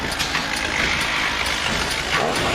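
A Robot Wars combat robot's chainsaw tail, spinning at over 3,000 rpm, gives a steady buzzing mechanical drone that runs continuously and fairly loud, with no talk over it.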